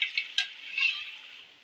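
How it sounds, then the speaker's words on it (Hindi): Chicken with ginger and garlic sautéing in a pan, a soft steady sizzle with a few quick stirring scrapes near the start, close and fairly quiet. "अब इसको मज़ीद मुझे 10 मिनट इसकी भुनाई करनी है"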